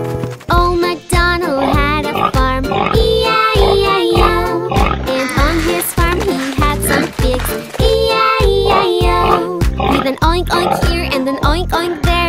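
A nursery-rhyme rendition of Old MacDonald's farm with pig oinks set to bouncy music, loud and continuous; the grunting is mixed into the song and may be voiced by a singer.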